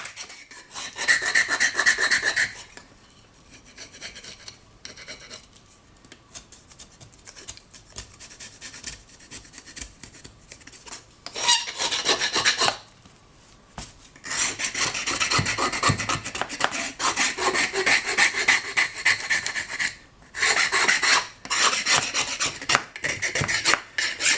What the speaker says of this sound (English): And now I can scrape.